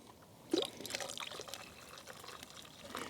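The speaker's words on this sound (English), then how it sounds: "pour a little bit more water in" Water poured from a pot into the cup of a Swedish M40 mess kit over a Firebox stove outdoors, a close, soft continuous trickle that starts with a splash and keeps running for a few seconds with no voices over it.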